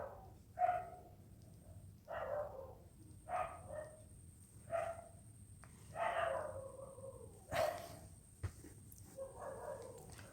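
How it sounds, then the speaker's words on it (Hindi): Dogs bark outside at night around 1 a.m., a series of repeated barks and yelps spaced a second or two apart, distant-sounding through walls over a low steady background hum. "बाहर कुत्ते भौंक रहे हैं"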